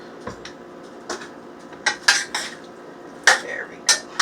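A utensil scrapes and clinks against a stainless steel pot as food is stirred, giving half a dozen distinct metallic knocks spaced irregularly, close and clear with no voices.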